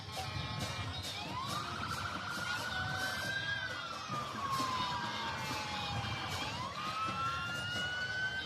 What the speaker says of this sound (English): How many sirens have we heard?